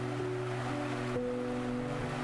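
Fast, strong river current on a crossing with no bridge, heard as a continuous broad rushing wash of water, steady and moderately loud with no voices.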